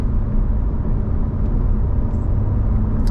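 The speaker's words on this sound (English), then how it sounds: "I have the exhaust in track right now, by the way, so we have the loudest exhaust setting" A Chevrolet C7 Corvette Z06 with the Z07 package, exhaust set to its loudest track mode, cruising at low throttle: a steady, deep engine and exhaust drone heard from inside the cabin, continuous and fairly loud, with no talking.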